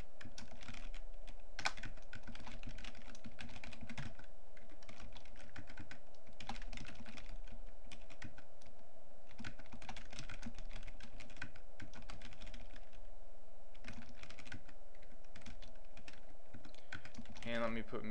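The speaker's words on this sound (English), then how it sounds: "I just go through here and I type in the names of the athletes and from the results" Athlete names are typed on a computer keyboard in quick, uneven bursts of clicking keystrokes that continue steadily for the whole stretch, close to the microphone with a faint hum underneath and no talk.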